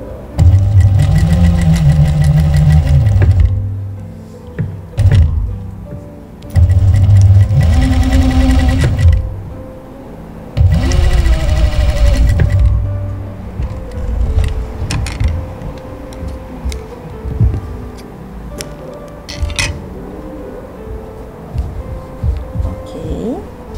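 A sewing machine stitching patchwork seams for a machine cover, running in loud bursts of rapid mechanical whirring separated by short pauses, then softer intermittent clicks and handling noises, with no talking.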